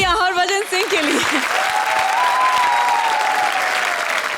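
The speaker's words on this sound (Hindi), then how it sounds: "जोरदार तालियां हरभजन सिंह के लिए।" A comedy show studio audience breaks into loud applause for Harbhajan Singh. A brief voice at the start gives way to dense, steady clapping, with a faint tonal sound running underneath.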